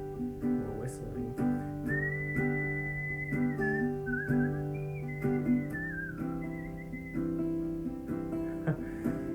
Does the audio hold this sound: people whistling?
yes